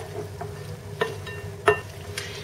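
A bean salad is tossed with vinaigrette, giving soft, faint stirring and scraping with a few brief louder clinks of the utensil against the bowl.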